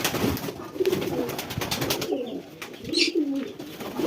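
Domestic pigeons in a home loft setup coo softly in low, rolling calls, close by and steady, with no speech.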